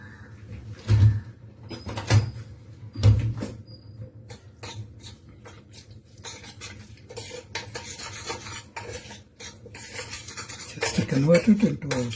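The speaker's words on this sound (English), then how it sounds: "Now just mix in some fresh cream." Fresh cream is stirred into a pan of noodles, giving soft wet scraping and stirring strokes with a few sharper knocks of the utensil against the pan. The sounds are close and fairly quiet, coming in irregular bursts without speech.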